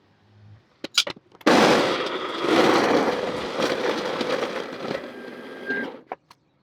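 Coffee beans being ground coarse for a French press, giving a loud, steady rattling grinder roar that starts abruptly after a few clicks and runs for about four and a half seconds before cutting off.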